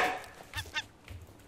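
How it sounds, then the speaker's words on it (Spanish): Gull squawks in the ocean survival game Raft: a couple of short, harsh honking calls close by, then a quieter squawk, with no speech. "¡La gaviota asquerosa!"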